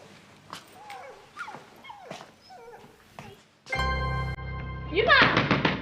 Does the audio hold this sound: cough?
no